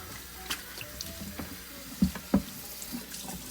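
Tap water runs and splashes while rinsing lemon juice off a raw picnic pork shoulder, a low steady wash broken by two louder splashes in the middle, with no talking.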